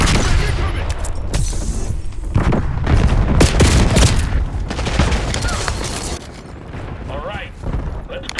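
A Semtex sticky grenade detonating in Black Ops 6 amid heavy combat: a dense run of loud, close booms and rapid gunfire bursts for several seconds, thinning toward the end, with voices partly underneath.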